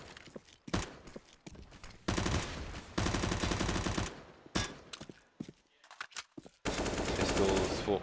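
Rapid gunfire fills a Counter-Strike match on the Cache map, with dense automatic bursts and single pistol shots popping in quick succession, broken by brief gaps and footsteps, while a commentator talks over the action.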